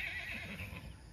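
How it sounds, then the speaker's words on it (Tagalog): A horse neighs on a farm in Batangas, a single whinny that sounds fairly close. It rises over steady broadband background noise, with no voices. "Hala, may kabayo din doon sa Farmville."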